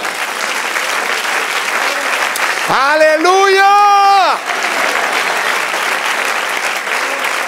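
Church congregation applauding for the Lord during a sermon, a steady broadband wash of clapping throughout, with a single voice shouting out loudly over the middle of it.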